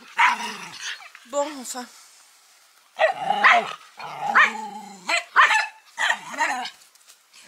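A dog barks in several loud, close bursts with yips and growly tones, heard outdoors near a hedge and trees, with a person speaking briefly among the barks.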